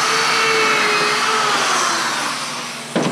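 A drill bores a pilot hole with an eighth-inch bit near the top of a wooden assembly. A steady, loud motor whine runs for about three seconds and then cuts off abruptly.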